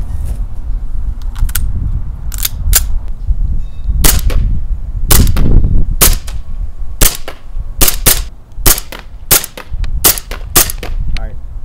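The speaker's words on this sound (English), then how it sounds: "P226 from KOA shoots literally flawless." A KOA P226 gas airsoft pistol fires about fifteen sharp, loud snapping shots close by, some in quick pairs and others spaced apart, with faint mechanical clicks between them.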